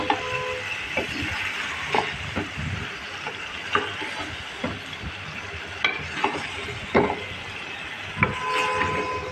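Meat with cucumber and other vegetables being stirred and sautéed in a pan, a steady sizzle broken by repeated scraping and clanking strokes of a spatula, close and fairly loud, with no talking.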